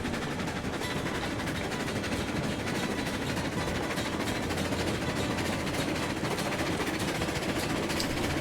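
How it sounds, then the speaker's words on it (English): Locomotive running at about 25 mph in the Railroads Online game, a steady, dense rumble with continuous clatter and broadband mechanical noise, loud and unbroken throughout with no talk. "This locomotive is pretty quick, 25 miles an hour."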